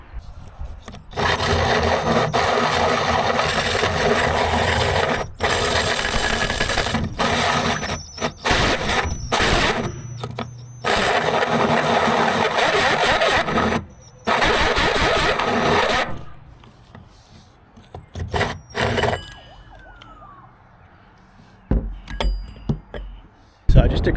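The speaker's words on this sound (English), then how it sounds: "I've got to take the hole out to this diameter here with this hole saw," Hole saw cutting out an old winch mounting hole on a boat, long loud grinding bursts separated by short pauses, close up, with stop-start rhythm and some talking in between.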